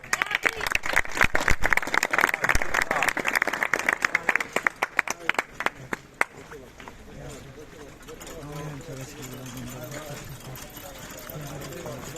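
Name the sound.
crowd applause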